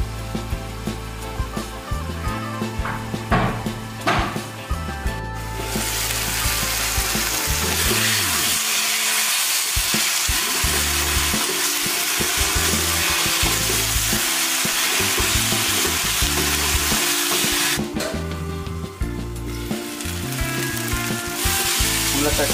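Tomatoes and onions sizzling and frying in a pan, preparing masala for a Kerala-style pearl spot fish cooked in banana leaf; a steady loud hiss runs throughout, with stirring clatter near the start and no talk.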